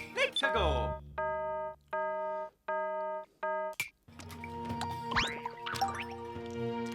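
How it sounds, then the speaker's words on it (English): A bright, tubular-bell tone, a video game Wiggler sound, rings out in a few short repeated strikes, each sustaining briefly, followed by busier electronic game music. "Wiggler is a tubular bell."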